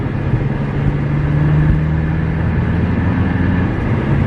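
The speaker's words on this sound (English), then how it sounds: "For a diesel, I don't think it sounds like any other diesel." A car engine drones in a low, continuous rumble from inside the vehicle, steady and fairly loud throughout.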